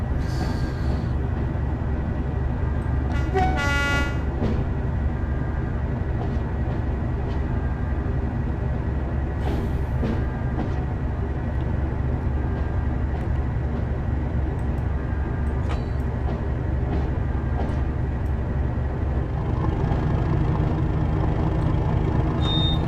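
Heritage WSR Class 37 diesel locomotive in Train Sim World pulling away from Minehead with a heavy, thrashy engine roar that holds steady throughout, with brief hissing bursts and a deeper throb building near the end.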